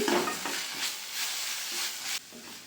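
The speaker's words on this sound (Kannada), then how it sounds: "ಶುಂಠಿ ಬೆಳ್ಳುಳ್ಳಿ ಪೇಸ್ಟ್ ಸ್ಮೆಲ್ ಸ್ಮೆಲ್ಲೆಲ್ಲ ಹೋಗಬೇಕು ಅವಾಗಂಟ ಒಂದು ಸ್ವಲ್ಪ ಫ್ರೈ ಮಾಡಿ" Ginger garlic paste with chili powder and salt sizzles in a pan while being stirred for egg rice, giving a close, steady frying hiss with scraping strokes that cut off sharply near the end.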